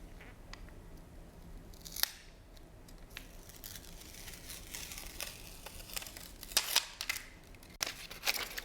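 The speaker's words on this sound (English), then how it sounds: "let's take off the plastic" Protective plastic film peeled off a new Google Pixel 10 Pro phone, giving quiet crinkling and rustling that builds to several sharper, louder tearing crackles near the end, close and without talking.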